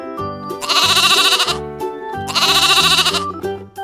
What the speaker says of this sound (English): Is this animal is goat?